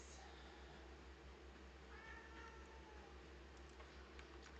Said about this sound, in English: Y'all can hear the cat. That is the cat getting petted,